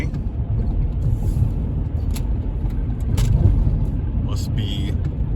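Slow-moving cars rolling along a street in Ensenada, Mexico, a steady low engine rumble with occasional brief higher noises from passing traffic, and a voice speaking over it.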